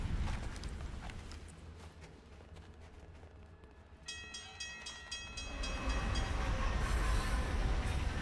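A train rumbles past in the video game Alpha Protocol, a dense, continuous roar of rolling wheels and rattling cars that swells louder toward the end, with a bright squealing tone entering midway.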